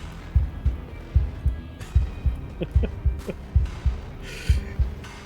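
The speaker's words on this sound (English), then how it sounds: "That deep, deep heartbeat sound." A deep, low heartbeat pulses steadily in the horror video game Slay the Princess, its thumps repeating roughly every half second under a faint droning background, with a few brief higher tones flickering in the middle.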